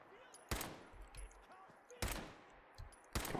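Gunfire in the Fallout 4 video game: three sharp, loud shots spaced about a second apart, with faint game sounds between them.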